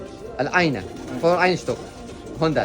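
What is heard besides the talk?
homing pigeons cooing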